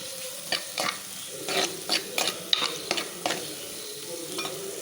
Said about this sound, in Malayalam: നമുക്കതിലേക്ക് നമ്മുടെ സവോള ഒന്ന് ചെറുതായിട്ടൊന്ന് വഴറ്റി കൊടുക്കാം